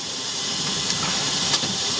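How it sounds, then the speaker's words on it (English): Steady broadband hiss of an electric kettle heating water toward the boil inside a van, rushing evenly throughout with a couple of faint clicks and no talk. "We just need the kettle to boil."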